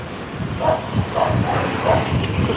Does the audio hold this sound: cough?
no